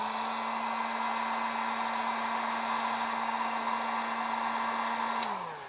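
A heat gun blows on a Samsung S22 phone part, giving a loud, steady whirring hiss up close that holds for about five seconds and then winds down as it switches off.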